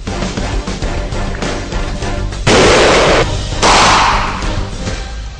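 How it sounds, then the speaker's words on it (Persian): Live rounds fired at a shooting target during Iranian special forces training, loud and close, with heavy thuds and bursts that form two sustained blasts in the middle. "این گلوله هایی که جناب سر شلیک میکنن از این سیبل پشت سر مشخص، اینا مشقی نیست، اینا جنگی"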